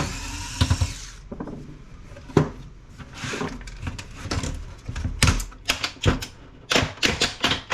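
Screws and small parts are removed from a Panasonic five-disc DVD player being scrapped, giving sharp, irregular clicks, rattles and metallic taps close by, with brief quieter pauses between bursts and no speech.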